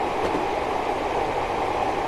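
A train rolls along on Commonwealth bogies in Train Simulator 2020, a steady low rumble of wheels on track with faint rhythmic clatter, close and continuous.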